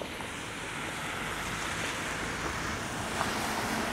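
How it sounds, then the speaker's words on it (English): Strong wind buffeting a camera microphone on a snowy Toronto street walk, a constant loud rumbling roar that covers the whole stretch without a break, no voices. "the wind is kind of blowing directly into me here"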